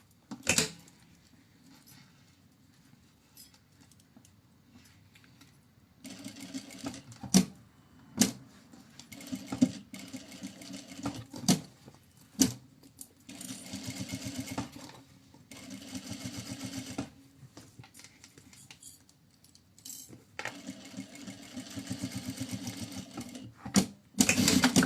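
A sewing machine stitches fabric for a handmade bag in several bursts of rapid, buzzing stitching, broken by short pauses and sharp clicks from the machine being stopped and adjusted.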